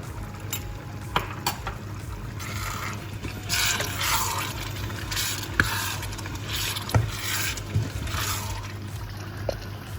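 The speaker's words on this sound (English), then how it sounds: "you can see how nice it's simmering" A pot of Thai chicken and vegetable yellow curry simmers, giving a low continuous bubbling with a few faint clinks and scrapes and no voices.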